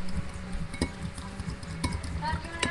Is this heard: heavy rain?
no